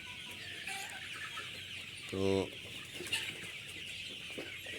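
On a Mymensingh farm, a medium Sonali super hybrid chicken, about 1 kg at 50 days, gives one loud, clear burst of clucking midway. A faint background of fowl noise runs throughout, and a voice says a single brief word.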